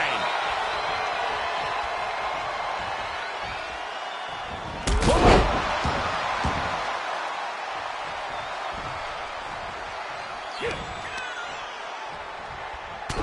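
Clothesline slam in the WWE 2K24 wrestling video game, a single loud impact thud midway over steady arena crowd noise, with a smaller thump later.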